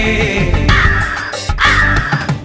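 Crow caws in a staged musical skit about Noah's Ark, loud, harsh and repeated in close succession over a dense musical backing.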